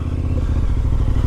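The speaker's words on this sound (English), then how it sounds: "250 two-stroke motorbike back in the day in fourth gear" A 250cc two-stroke motorbike pulls hard in fourth gear, its engine a steady, close, loud drone with clattery mechanical rattle and occasional thuds running through the whole stretch, no voices.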